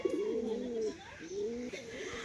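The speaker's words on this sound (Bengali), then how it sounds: "এ হচ্ছে নর পায়রাটা" A male pigeon gives a few soft, rolling coos in quick succession, close by and fairly quiet, with light background noise.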